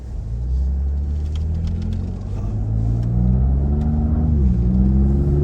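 A 2020 Ford Raptor truck accelerates with a deep, steady engine rumble heard from inside the cabin, the pitch climbing through gears with a brief shift dip, loud and continuous without voices.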